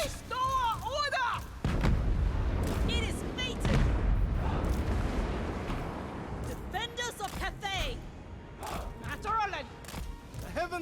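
Troops fire in the strategy video game Total War Warhammer 3, giving scattered thuds and sharp bursts of battle gunfire and artillery under someone talking, with other in-game sounds mixed in.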